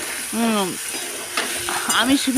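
Okra and onion fry in a pan with a soft, steady sizzle, punctuated by a few brief scraping stirs, close and clear with no talk over it.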